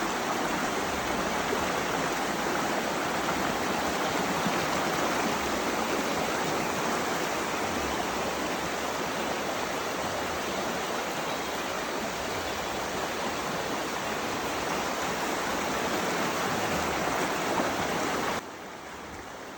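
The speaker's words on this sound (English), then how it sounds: "Little Pigeon River that runs through this area. The outcrops and the cascades and the water was just so beautiful." Cascades of the Little Pigeon River in the Smoky Mountains, a dense constant rush of tumbling water heard close and alone, steady throughout until a sudden drop near the end.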